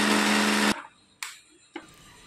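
Mixer grinder whirring loudly while grinding roasted gram chutney with coconut and salt, one long run that stops sharply, followed by two short pulsed bursts.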